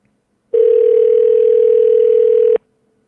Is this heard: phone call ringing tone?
yes